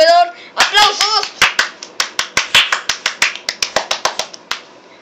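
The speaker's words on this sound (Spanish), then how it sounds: "¡Aplausos!" Quick, sharp hand claps ring out in a steady run of about twenty, close and loud, as applause after a short poem is read aloud; a brief voice comes just before the clapping starts.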